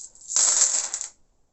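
Dice drop and rattle briefly across a table, making a short, bright clatter close by that dies away within about a second.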